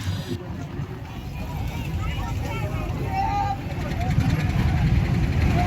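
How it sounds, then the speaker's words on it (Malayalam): A boat on a river ride in Varanasi gives a steady, low rumbling drone with a wash of water noise, growing slightly louder toward the end, with muffled voices in the background. "നമ്മൾ ഇന്ന് പോകുന്ന ഒരു വാരാണസിയിലെ ബോട്ട് യാത്രയ്ക്കാണ്"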